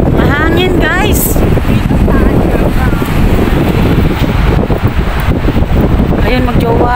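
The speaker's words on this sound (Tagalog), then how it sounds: "Mahangin guys." Strong wind roars continuously across a microphone at night in Central Hong Kong, a dense rushing buffet that stays loud throughout, with someone talking over it in snatches.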